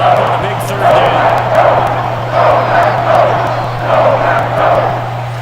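Stadium crowd in a football video game roars in rolling waves ahead of a big third down, loud and sustained, with a low steady hum beneath it.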